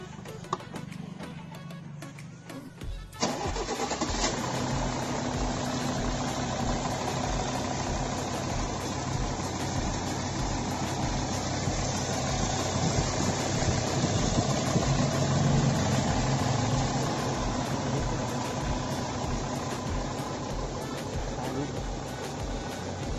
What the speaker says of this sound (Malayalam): നമുക്കിനി വണ്ടിയുടെ എഞ്ചിൻ സൗണ്ട് ഒന്ന് കേൾക്കാം